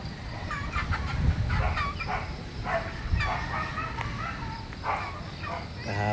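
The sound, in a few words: chickens clucking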